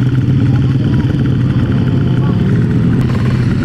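A Honda Vario motorcycle at a racing event passes close, its engine a loud, continuous rough drone throughout, with a person talking over it.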